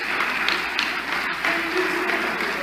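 Applause from a parliamentary chamber during a defence minister's interpellation, steady dense clapping filling the hall with a brief dip midway, moderately loud and continuous throughout.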